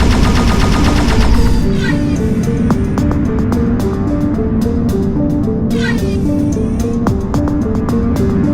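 Spaceship weapons firing in the VR space-combat game End Space, with rapid, evenly spaced laser-like shots repeating steadily over a loud, droning engine and music bed.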